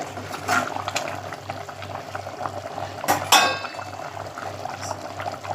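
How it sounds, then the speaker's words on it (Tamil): Curry boiling in a pot on the stove, close and steady bubbling with a low hum and a brief sharper pop midway. "நல்லா கொதித்து வருது பாருங்கள்"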